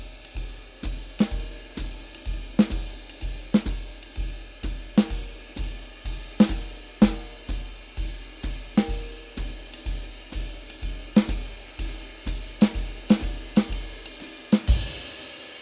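Jazz drum kit comping, snare and bass drum accents woven in and out of a steady ride cymbal pattern, played alone at a relaxed swing tempo over about fifteen seconds, ending with a louder final hit.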